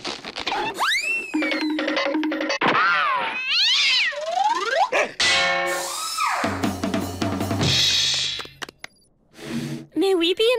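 Squeaky cartoon sound effects made by rubbing and stretching a balloon: a rapid series of rising and falling whistles, squeals and boings, loud and close, with brief gaps and a short pause near the end.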